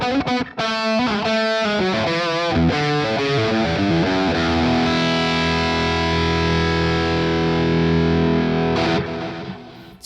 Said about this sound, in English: So this has got a small room reverb.